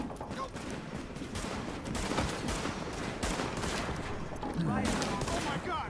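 Dense, continuous gunfire from The Division, set in infected New York, with overlapping bursts and shots filling the whole stretch at steady loudness, talk running underneath.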